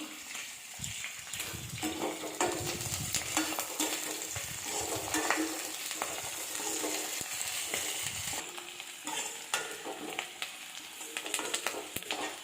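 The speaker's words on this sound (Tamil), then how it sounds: "வெங்காயம் நல்லா வதங்கட்டும்." Shallots and curry leaves sauté in a pan with a dense, steady sizzle, broken by scraping stirs and a few sharp spatters, close and fairly quiet.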